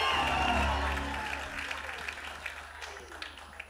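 Applause and cheering from a crowd at a church festival, strong at first and then fading to scattered claps under a lingering murmur.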